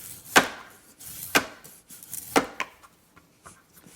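Horseradish root being peeled with a blade, three sharp scraping strokes about a second apart followed by softer, scattered scrapes and rubs close up.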